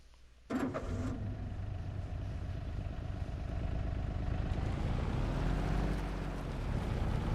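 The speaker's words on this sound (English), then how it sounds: "my biggest criticism now of this four-wheeler is how it sounds when it starts up and the sound when it's running" A four-wheeler ATV engine in Farming Simulator 22 starts with a sharp burst, then settles into a loud, steady running drone that holds close and unbroken, with a slight rising and falling pitch toward the end.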